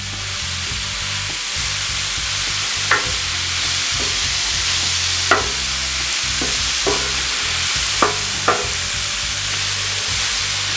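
Shrimp fry on a very hot Vivo street-taco griddle, making a loud, steady, close sizzle for the whole stretch. A few sharp clicks and scrapes are heard as the shrimp are pushed around.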